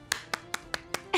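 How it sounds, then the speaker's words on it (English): Children clap their hands fast, six crisp claps in quick, steady succession about a fifth of a second apart, close and clear. "Now let's clap fast."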